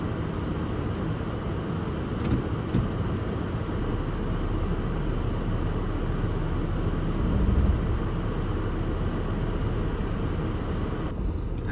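A cold car drives on an icy Michigan winter road, giving a continuous steady road and engine roar heard from inside the vehicle, with no clear breaks.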